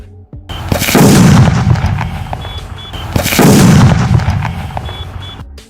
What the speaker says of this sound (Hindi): जब गर्म तेल और लिक्विड नाइट्रोजन को मिलाया जाता है तो कितना बड़ा धमाका होता है